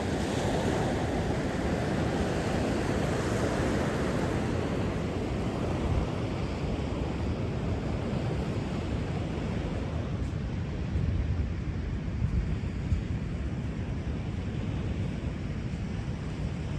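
Waves break and wash continuously at Bacnotan Beach, a loud, steady roar of surf with wind buffeting the microphone and no talk.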